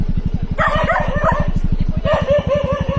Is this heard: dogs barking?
yes